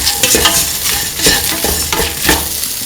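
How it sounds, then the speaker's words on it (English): A spoon scrapes and stirs through a simmering lentil, bell pepper and coconut milk stew after salt goes in, with repeated rhythmic scraping strokes over a soft bubbling sizzle, loud and close with no voices. "Put in salt to taste. Mix. Mix that in."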